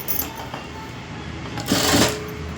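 A sewing machine stitches a princess-cut blouse in a short clatter that swells into a louder burst of stitching near the end, heard close and alone.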